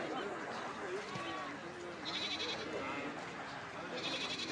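Goats bleat amid the hubbub of a busy goat market, where people talk steadily and one clear bleat rises above the crowd noise.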